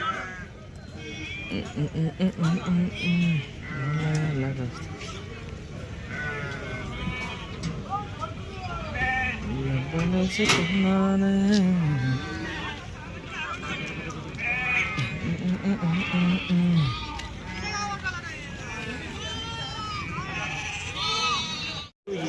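Young calves bleat repeatedly at a livestock market, several calls rising over a busy crowd of people talking nearby.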